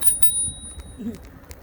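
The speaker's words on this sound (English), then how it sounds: "I added a ding-a-ling bell" A small ding-a-ling bicycle bell mounted on an e-bike rings in a few quick bright strikes over a low rumbling background.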